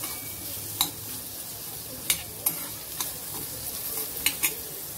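Onion lightly sautéing in a pan for spring rolls, an even close sizzle with several crisp spoon clinks and scrapes of stirring, no talking.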